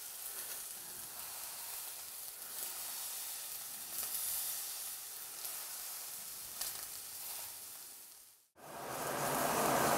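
Steak searing in a Hexclad 10-inch hybrid pan, a steady close, loud sizzle and hiss running nearly unbroken, with a brief dip near the end before the frying roars back.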